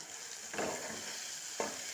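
Capsicum fries in hot oil with a steady close sizzle, broken by two brief stirring scrapes, and no one talks.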